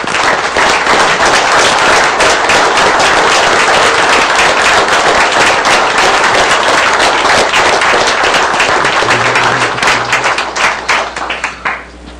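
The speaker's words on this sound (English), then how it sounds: "And how about one more round of applause for John and Kenny?" Loud, dense applause from a city council meeting audience honoring new council members, a continuous wash of clapping that tapers off near the end with a faint voice.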